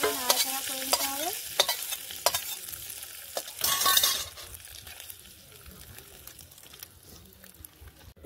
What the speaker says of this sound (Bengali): এরপর খিচুড়ি দিয়ে দেবো। ভালো করে নাড়াচাড়া করে নিতে হবে।